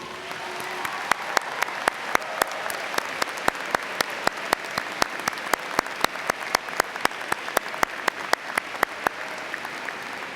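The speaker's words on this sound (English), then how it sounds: "how about a round of applause for these students and what they've achieved?" A 2016 commencement audience applauds its graduating students with a sustained wash of clapping, crisp individual hand claps cracking through at a quick, steady pace.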